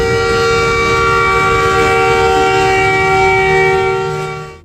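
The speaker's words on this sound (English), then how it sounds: "this railroad has some very unique rolling stock, like this converted ore car that has a horn" A sustained chord-like horn blast from a converted railroad ore car, very loud and steady for about four seconds before tapering off at the end.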